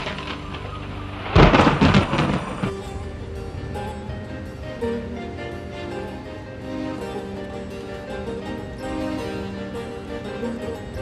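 A sudden loud thunderclap from a storm cracks near the start, then rumbles and fades into a steady low background hum, with no voices.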